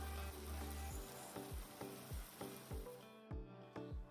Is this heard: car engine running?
no